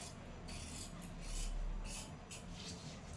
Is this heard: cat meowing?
no